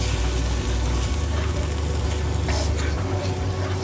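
Thick coconut milk being stirred into onions frying in a pan for a Southern Sri Lankan stuffed squid curry, giving a steady, dense, close sizzle that holds throughout without any talking.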